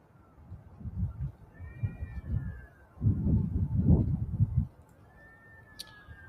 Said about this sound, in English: The cats don't like it, as you can hear on the live stream.